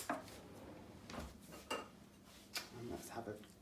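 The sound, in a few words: spoon scooping chocolate brownie from baking dish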